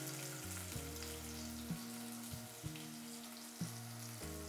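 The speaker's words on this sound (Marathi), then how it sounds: "आता यामध्ये लगेचच मी 1 टोमॅटो घालून घेते, हे व्यवस्थित असं परतवून घ्यायचं।" A tomato is sautéed in a pan for a pea curry, giving a steady, faint sizzle and frying hiss with a few soft taps, alongside a low steady hum.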